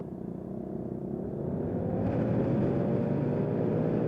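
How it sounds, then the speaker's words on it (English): A very loud car passes on an east-west road by a highway, a steady low engine rumble that swells and stays close and loud, heard alone. "Nope, just a very loud car."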